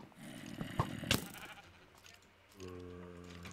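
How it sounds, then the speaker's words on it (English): Sheep bleating in the Minecraft video game, a few short bleats near the start followed by a steadier tonal bleat toward the end, with no speech. "There's so many sheep here."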